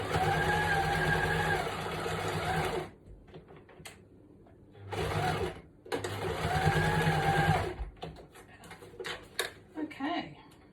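Sewing machine stitching lace onto a junk journal, its motor running in long close steady bursts that stop and restart, with short pauses and a little handling noise and speech between runs.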